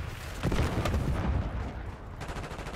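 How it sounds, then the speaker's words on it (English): A Semtex grenade goes off in Call of Duty Black Ops 6 multiplayer, a loud deep boom with rumbling gunfire-like crackle that swells around half a second in and lingers as a dense roar. "Semtex armed."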